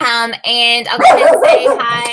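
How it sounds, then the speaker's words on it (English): Small dogs bark and yip indoors in rapid, loud bursts, overlapping and mixing with a person talking close by. "I'm so sorry, I have barking dogs in here."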